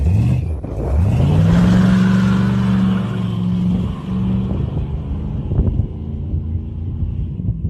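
Truck engine revving hard nearby, climbing to a loud sustained roar and then settling to a rough, rumbling idle, with wind buffeting the microphone.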